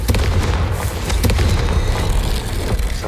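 A Confringo fire-blast spell goes off in Hogwarts Legacy, a heavy booming explosion with rumbling low end and crackling bursts that sustain loudly for a few seconds, with no talk over it.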